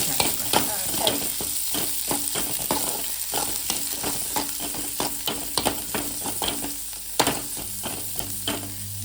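Onions frying in coconut oil in a pan for a village-style Mangalorean silver fish curry, with steady close sizzling and repeated scraping stirs of a utensil across the pan, no voices.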